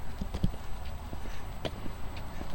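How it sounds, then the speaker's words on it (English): A horse's hooves clip-clop on a paved road beside an old church, a steady rhythm of close, distinct hoof strikes in the open air. "Need a scooper to walk behind that horse."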